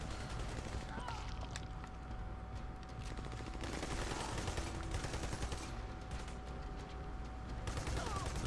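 Rapid bursts of gunfire in a firefight in Army of Two: The Devil's Cartel on PS3, loud and nearly unbroken throughout, layered with game sound effects and speech.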